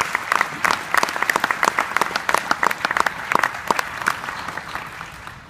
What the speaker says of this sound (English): I'd like you guys to give a round of applause for the Dream Class of 2015